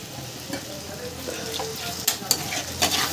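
Fried fish pieces and a splash of water go into sizzling masala with tomato, giving a steady close sizzle with a few sharper spattering bursts near the end.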